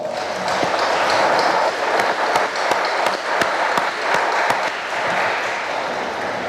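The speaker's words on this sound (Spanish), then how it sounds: "Vamos a darles a todos un fuerte aplauso." Wedding guests inside a church in San Agustín Oapan applaud the newlyweds and their families, a sustained, fairly loud crowd clapping with some sharper individual claps standing out, continuing throughout.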